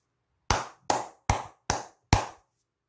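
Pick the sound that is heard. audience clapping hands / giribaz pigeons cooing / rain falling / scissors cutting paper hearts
audience clapping hands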